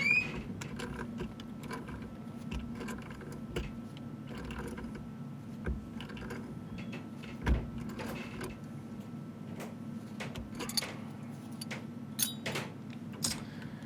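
A wrench cranks down a plumbing joining nut while a Moen Flo water shutoff is installed, a close run of small clicking and ratcheting ticks over a low steady hum, with a few louder knocks.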